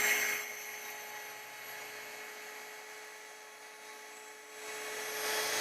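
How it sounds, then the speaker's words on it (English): A rotary polisher runs at 1800 RPM on a car hood, giving a steady high-pitched whir with a constant tone. It holds fairly level throughout and swells slightly at the start and end. "I'm going to turn my machine on and start polishing"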